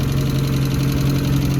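A turbocharged Mazda Miata engine idles at its first start-up, a steady, close, even drone with a deep rumbling hum that holds unchanged throughout.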